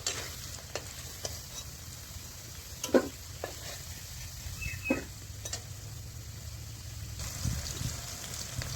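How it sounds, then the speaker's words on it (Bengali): Onions sizzling and frying in a pan after potatoes have been fried, a steady close sizzle with occasional stirring clinks and scrapes, no talking. "তারপরে যে পেঁয়াজগুলোকে দিয়ে দিচ্ছি। হালকা লাল লাল করে ভেজে নেব।"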